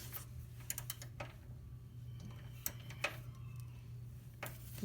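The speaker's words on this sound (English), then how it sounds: "Without this ratchet, it'd be definitely harder." A ratchet clicks in short irregular bursts while loosening a 12 mm bolt during sway bar removal on a Honda Fit GK, with faint, close ticks over a steady low hum.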